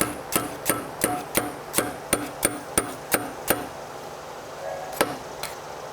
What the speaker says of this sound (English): All right, we're going to drive these roll pins in.